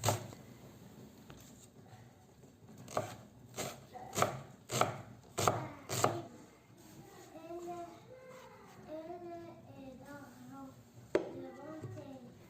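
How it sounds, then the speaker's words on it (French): A knife chops green onion on a cutting board in a run of about six sharp, evenly spaced, close strikes, followed by a softer stretch where a voice and other voices are faintly heard. "Je vais couper un oignon vert"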